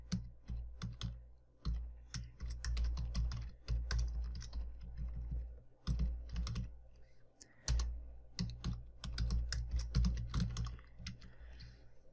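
Fast typing on a computer keyboard, bursts of close, crisp key clicks in irregular runs with brief pauses between them.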